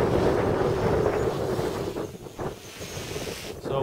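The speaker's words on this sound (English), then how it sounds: "So wind's picking up now over my left shoulder." Strong wind buffeting a microphone outdoors at a drone flying field, a steady loud low rumble for the whole stretch, easing slightly toward the end with gusty fluctuations and no voices.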